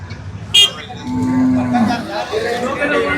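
Jafarabadi and Murrah buffalo calves at Erragadda Sunday cattle market, a loud nearby moo rising and falling for about a second, with a sharp clank just before and crowd chatter and market bustle after.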